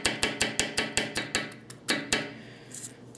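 A Victorinox Swiss Steel Spirit knife chops through a carrot on a board, a rapid series of about ten sharp, regular knocks that slows and thins into a few softer cuts at the end.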